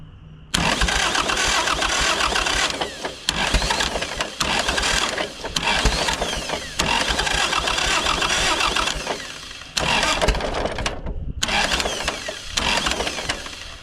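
The engine of a 1951 Cletrac Oliver crawler dozer cranks loudly in several long bursts with brief pauses between them, firing roughly and sputtering as the starter is held and released again and again, with no talk over it.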